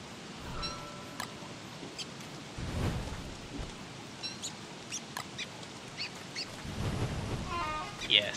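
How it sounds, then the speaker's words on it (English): Rain falls in the survival video game Don't Starve as a steady, soft patter, with brief faint game sounds popping up over the wash. "Yeah, stupid rain."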